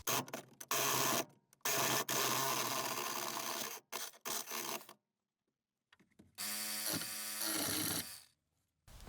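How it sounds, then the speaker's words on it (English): A small Milwaukee power hacksaw cuts near the brake area of a Nissan 350z during a hydraulic brake install, giving loud rasping bursts that start and stop repeatedly with short silent pauses between. "I'm going to try to use my little tiny Milwaukee hacksaw."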